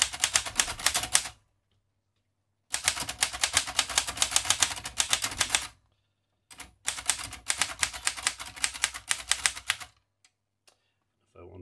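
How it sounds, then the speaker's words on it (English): A 1937 Remington Home Portable typewriter clatters in rapid bursts of close, crisp keystrikes, separated by pauses of near silence. "The carriage return is just not just as easy as it is on some of the larger typewriters."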